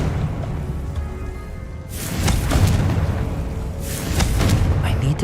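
Confringo spell explosion in the video game Hogwarts Legacy: a deep booming blast that swells and rolls, followed by a second burst a couple of seconds later, loud and close.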